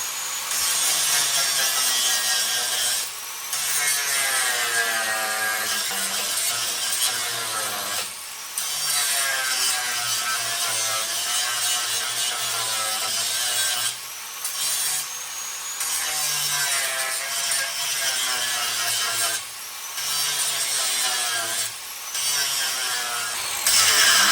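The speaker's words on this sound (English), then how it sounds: "I've got most of the rivet head ground down, and it's starting to show a circle around" A tool grinds down a rivet head on a Dodge D100 during a ladder bar install, giving a harsh, continuous abrasive rasp with a few brief pauses, close and loud, without talk.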